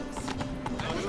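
Roach the horse galloping in The Witcher 3, rapid rhythmic hoof clip-clops close by under game dialogue and a voice speaking.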